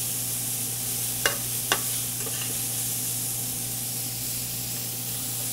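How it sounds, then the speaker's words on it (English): Diced sugar pumpkin with finely minced shallot sautéing in a pan, a steady soft sizzle and hiss with two short sharp stirring scrapes early on, close and continuous. "add that diced sugar pumpkin. And as it sautés, it'll start to soften"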